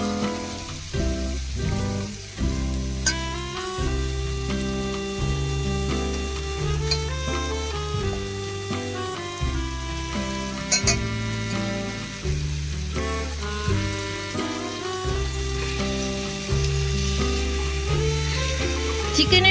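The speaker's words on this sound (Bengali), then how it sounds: "চিকেনের সাথে মশলাটা খুব ভালোভাবে কষিয়ে নেব।" Chicken pieces frying in hot oil with ginger-garlic spice masala for Kashmiri chicken kanti, a steady close sizzle with repeated stirring scrapes, while rhythmic music plays loudly throughout.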